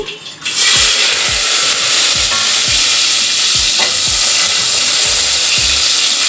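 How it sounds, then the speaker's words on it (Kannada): Chopped onion sizzles loudly in hot oil in a pan, with steady broadband frying hiss and repeated scraping stirs of a spatula at a regular rhythm, close and continuous without talk. "ಈ ಒಂದು ಈರುಳ್ಳಿ ಹಾಕ್ತಾ ಇದ್ದೀನಿ"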